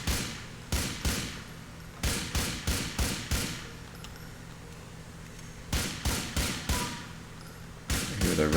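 Gunfire from a game set in GTA 4's Sprunk Factory, fired at windows, comes in rapid bursts of sharp, ricocheting shots separated by short gaps. The shots are loud and repeated with no talking over them.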